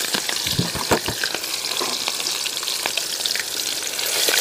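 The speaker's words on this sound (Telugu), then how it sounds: "ఇప్పుడు పచ్చిమిర్చి, ఆనియన్స్ అయితే వేగాయండి." Chopped green chillies and onions frying in a pan crackle and sizzle loudly up close, with scraping strokes from a stirring spoon in the first second and a continuous hiss afterward.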